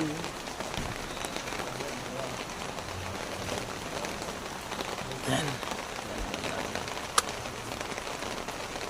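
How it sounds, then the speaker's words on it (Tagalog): Heavy rain pouring steadily onto surfaces, a dense continuous hiss with occasional louder drips and splashes, a voice faintly underneath. "Maulan na maulan."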